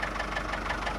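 A Ford tractor fitted with a front loader idles steadily nearby, its engine giving a continuous, even chugging rumble with no talk.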